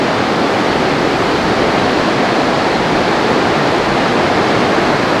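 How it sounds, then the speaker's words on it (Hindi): A river rushes in the Himalayan hills of Himachal, filling the air with loud, steady, broadband roar from close by, unbroken and with no voices over it. "तो हम आ चुके हैं नदी के बिल्कुल करीब"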